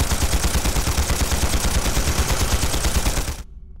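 A dense, loud volley of gunfire in the Trails through Daybreak video game, continuous rattling shots that cut off abruptly near the end.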